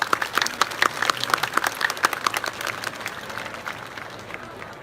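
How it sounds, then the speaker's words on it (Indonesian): A crowd at the 2022 Bali Arts Festival opening at Ardha Candra Art Center applauds Tourism Minister Sandiaga Uno, with lively clapping and crowd noise that gradually thins and fades toward the end. "tepuk tangan buat beliau."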